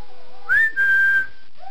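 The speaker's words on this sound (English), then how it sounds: "Let me see how you whistle." A child whistles by blowing through the lips, producing a short rising tone and then a longer steady pitch, thin and wavering, with light breathy blowing around it.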